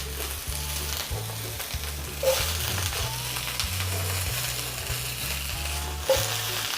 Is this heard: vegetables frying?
yes